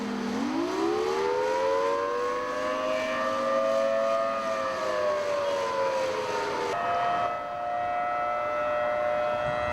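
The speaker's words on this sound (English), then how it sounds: "the first of 3 different waves of sirens went off here in downtown Kuwait City" Civil defense sirens wail across downtown Kuwait City, long rising and falling tones that carry loud and steady over the surrounding space, with no voices.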